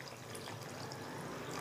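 Water is poured into a cooking pot of potatoes and mutton, giving a steady, soft splashing trickle that runs unbroken and fairly quiet from start to finish.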